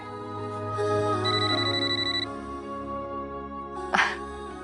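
A phone rings indoors with a repeating electronic melody that sustains for a couple of seconds, then fades back to a low hum before a brief louder burst near the end.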